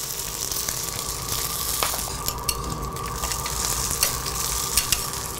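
Kobe beef steak sizzling and frying on a hot surface in a Kobe steak restaurant, a steady loud crackling hiss with scattered sharp pops throughout.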